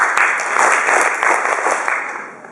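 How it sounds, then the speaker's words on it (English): A group of schoolchildren claps back together in a noisy, sustained burst of scattered hand claps that rolls on for a couple of seconds before tapering off. "If it gets noisy, and I clap, I'd like you to clap back and then nice and quiet."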